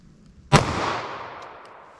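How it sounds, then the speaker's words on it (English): Single sharp gunshot from a 9mm pistol fired into a block of clear ballistics gel, a loud close crack followed by a fading reverberant tail, with no talking. "let's start with our 9mm plain clear ballistics shot."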